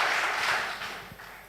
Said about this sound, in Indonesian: beri tepuk tangan yang di rumah-rumah atau di mana saja